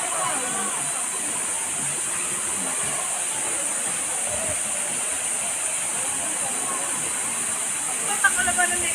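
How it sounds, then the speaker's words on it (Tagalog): Continuous broadband rush of the first waterfall on the trail to Batlag Falls in Tanay, Rizal, steady and loud throughout, with no clear pauses and a faint brief bump near the end. "Ito po yung unang falls."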